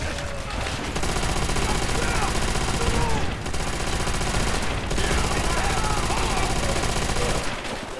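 Sustained machine gun fire in the World War II shooter Call of Duty: World at War, a dense, rapid, continuous rattle of shots that fills the whole stretch with only momentary breaks, loud and close.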